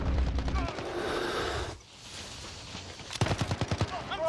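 Bursts of video game gunfire, rapid automatic rattles early on, a brief lull, then a sharp string of closely spaced shots toward the end, with a voice talking over parts of it.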